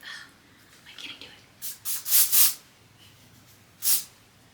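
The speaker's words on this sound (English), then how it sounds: "Sometimes I'll go in with a little bit of more texture spray." Several short aerosol bursts of texture spray misted onto curled hair: a cluster of four quick hisses, then a single spray a moment later, close and crisp against a quiet room.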